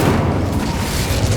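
Incendio fire spell cast in Hogwarts Legacy, a short loud burst of dense, roaring, boom-like fire noise that holds steady throughout without a clear onset or decay.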